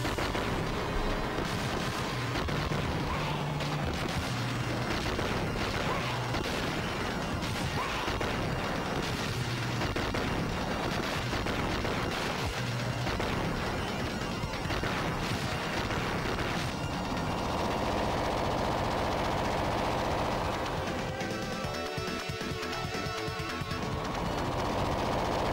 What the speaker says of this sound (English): The explosions don't cause a ton of lag that actually causes the game to chug.